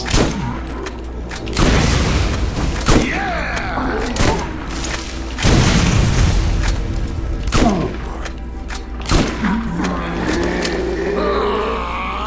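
Shotgun blasts of buckshot boom in the Borderlands game, several heavy shots spaced a second or two apart amid creature groans and other game effects.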